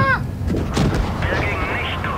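Tank gun shots and booms from World of Tanks gameplay, a few broadband thumps in the first second under constant loud voice chat, with people talking over the game sounds throughout.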